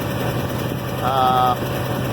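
A farm tractor engine drones steadily while spreading fertilizer and disking a field for corn, a constant low rumble with wind noise and a brief whining tone partway through.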